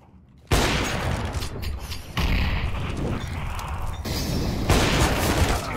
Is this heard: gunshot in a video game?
yes